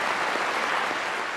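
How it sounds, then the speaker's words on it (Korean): Congratulatory applause in an office setting, a dense, even wash of clapping from several people, loud and close with no talking. "그리고 톰은 진심 어린 축하의 박수를 보내죠."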